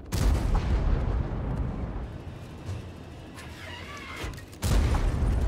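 A tank cannon firing in a video game during a Halloween game mode, a heavy booming blast that decays into a long rumbling tail, then a second loud shot near the end.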